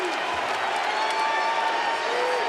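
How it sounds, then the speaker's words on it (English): Arena crowd of Memphis Grizzlies fans at a 2011 playoff game against the Spurs, cheering and applauding in a steady, loud wash of noise that fills the whole stretch without pause. "all this does is give the Memphis Grizzlies fans a longer time to cheer"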